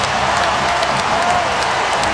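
Loud, dense arena crowd roaring and applauding through the whole stretch after a made three-pointer in an NBA playoff basketball game, Warriors against Grizzlies, with a steady wall of cheers and clapping.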